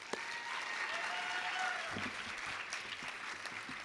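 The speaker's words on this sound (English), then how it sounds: "Let's give them another round of applause." A pageant audience applauds the contestants at Miss Provo 2018, a dense, steady wash of clapping that carries at full strength through the whole stretch, with a few voices mixed in.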